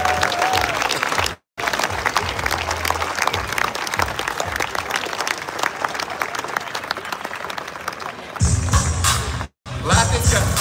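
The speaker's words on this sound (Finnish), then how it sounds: "Annetaan raikkoat aplodit Miro Leo ja Susijengi." A large outdoor crowd in Tampere city centre applauds the Susijengi basketball team at a EuroBasket 2025 celebration, with dense, loud clapping and cheering that stops briefly twice before swelling again.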